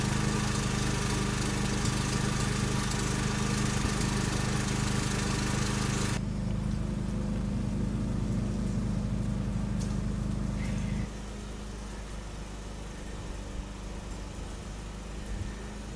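Generator engine idling steadily with a homemade muffler fitted, a loud continuous drone whose tone drops and quiets partway through as the exhaust sound changes; no talking.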